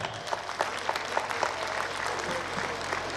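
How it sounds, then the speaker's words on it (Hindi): A school audience at an annual event applauds the student performers with steady, moderately distant clapping that holds for a few seconds. "तो उनके लिए एक बार जोरदार तालियां।"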